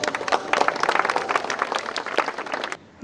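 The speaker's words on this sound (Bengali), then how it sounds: "সবাই একটু হাততালি দিন" A short burst of clapping from a small audience at an under-14 athletics training opening ceremony in Jamalpur, brisk and fairly close, lasting a few seconds before stopping abruptly.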